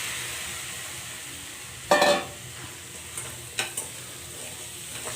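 Crabs fry in masala for an Andhra-style crab curry, a steady close sizzle with a sharp burst of crackling as they hit the pan, followed by a few lighter spatters and clinks.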